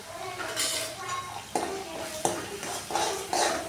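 Spiced potato bhaji seasoned with red chilli powder, salt and turmeric is stirred in an oiled pan, with a steady scraping of the spoon, soft sizzling, and a few sharp clinks of metal against the pan, close and alone.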